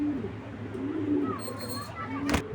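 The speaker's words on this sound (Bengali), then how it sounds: "সিঙ্গেলে কবুতর 2টা আবার একটু দেখাই দিলাম আপনাদের" Pigeons coo in soft, repeated low calls close by, several drawn-out coos over a steady background hum, with a brief sharp noise near the end.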